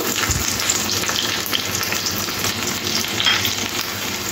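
Chopped garlic and chili fry in oil left from frying prawns, a dense, steady close sizzle with light stirring scrapes running throughout.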